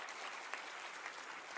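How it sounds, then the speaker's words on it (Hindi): An audience at a school language festival event claps in a dense, even wash of applause, faint and somewhat distant, lasting under two seconds. "जब संख्या 309 विद्यालय की हो तो तालियों की गूंज भी उसी स्तर की होनी चाहिए।"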